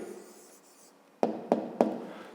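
An answer written by hand on paper: a soft faint rustle, then three crisp close taps of the pen in quick succession, each fading quickly, in a quiet room.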